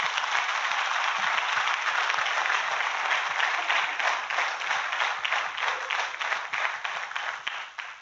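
Audience applause greeting psychologist Sangita Dubey as she is called onto the stage at a business talk event, a steady, dense clapping from a large crowd that holds for the whole stretch with no talking.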